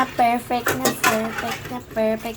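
Dishes clatter and clink as they are washed at home, several ringing metallic and ceramic knocks in quick succession, with someone talking over them.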